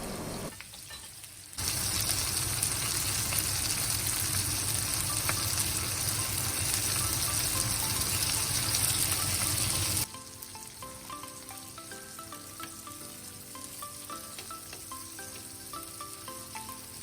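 Chicken frying in a pan for a sizzler gives a loud, even sizzle that cuts off abruptly, leaving a quieter kitchen background with faint tonal hum.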